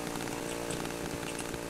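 Chainsaw revving continuously in the horror video game Cry of Fear, a loud, dense buzzing engine drone that holds steady for under two seconds with no talk over it.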